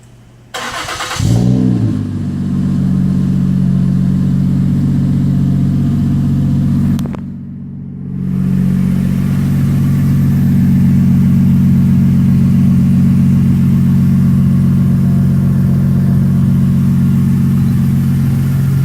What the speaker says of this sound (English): So 1 straight resonator, no mufflers. And it does produce a pretty damn good sound.